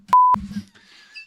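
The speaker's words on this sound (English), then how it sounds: "Beep." A single sharp electronic censor bleep, a pure steady tone lasting about a quarter second, cuts in loudly and is followed by brief muffled speech.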